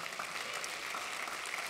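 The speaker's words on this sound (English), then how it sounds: "Come on, can we clap to that today?" Congregation clapping at a church sermon, a steady dense wash of many hands filling the short stretch, moderately distant and fairly quiet, with no voices over it.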